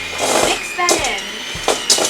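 An electric hand mixer churns cookie dough in a home kitchen, a steady whirring drone broken by short clunks and bumps as the beaters knock the bowl, running under light talk.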